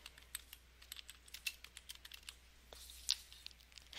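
Light, irregular keystrokes tap on a computer keyboard, a close, quiet run of clicks with brief pauses as text is typed into a text box, with no voices.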